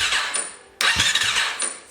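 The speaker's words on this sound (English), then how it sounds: "Let's try to crank her over now." A Honda CRF450R dirt bike cranks over in two loud, close bursts with a short break between them, the engine catching and revving briefly.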